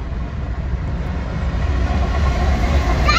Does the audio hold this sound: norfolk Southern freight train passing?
yes